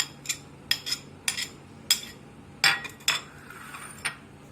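A spoon stirs barbecue sauce in a bowl. It gives around nine sharp, bright clinks at irregular intervals, close by with quiet gaps between them.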